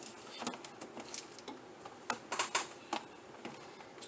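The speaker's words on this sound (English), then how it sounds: "I'm going to put it on my Cricut and let it cut" A Cricut cutting machine cuts an acrylic keychain with rapid, irregular light ticking and tapping, close and fairly quiet, forming a steady patter of small clicks.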